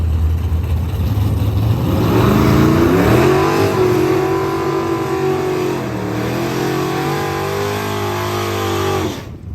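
A bracket race car revs hard to heat its tires, a loud sustained engine roar with rising and falling pitch for about nine seconds, close by, cutting off abruptly at the end.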